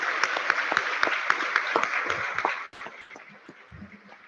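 Audience applause at a logistics risk-management presentation, brisk clapping from a modest crowd that cuts off abruptly partway through, leaving faint room noise.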